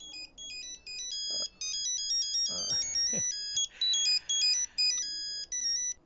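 A phone ringtone plays a bright, repeating electronic melody at moderate volume, with a few brief background voices and knocks beneath it.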